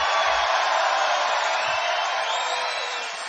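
A large crowd roars and cheers at a Trump rally in Rochester, New York: a loud, sustained wash of many voices holding steady throughout, easing off slightly at the end.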